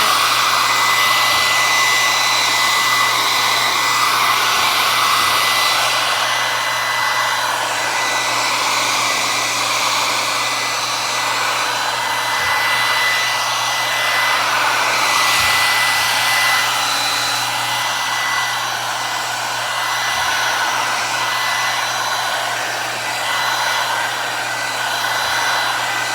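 Heat gun shrinking plastic wrap on a basket, a loud continuous blowing whoosh that holds steady throughout with faint handling taps underneath.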